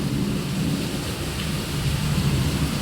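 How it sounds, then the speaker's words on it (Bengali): Heavy rain pours down in a dense, constant hiss, with a deep low rumble underneath. "প্রচন্ড বৃষ্টি হচ্ছে।"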